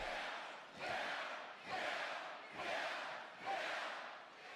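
A WWE SmackDown wrestling arena crowd chanting in unison, five loud rhythmic swells of massed voices about a second apart, heard from a distance inside the arena.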